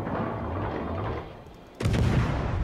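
Heavy booming naval artillery fire in World of Warships, a sustained rumbling barrage that dips briefly then returns with a sharp, loud blast.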